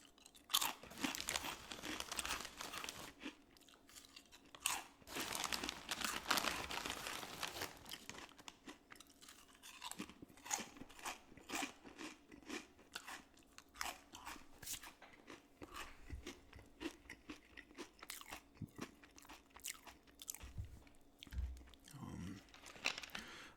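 Fritos corn chips being eaten up close, with dense, crisp crunching and chewing that continues almost nonstop, loud at first, then in sharper intermittent bites, with faint background murmur.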